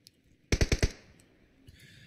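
Gunfire in PUBG Mobile during a PMGC 2020 esports final: a quick burst of four loud, closely spaced shots fired uphill, followed by a faint tail of ambient game noise.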